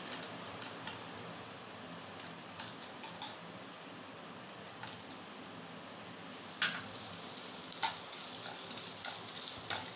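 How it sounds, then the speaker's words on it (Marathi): Edible gum (gond) roasting bit by bit in a pan over a low flame: a soft, steady sizzle and crackle with scattered light ticks and pops, faint and continuous, with no talk. "इथे आपण डिंक थोडा थोडा भाजून घेणार आहोत, मंद गॅसवरती थोडा थोडा भाजून घ्यायचा"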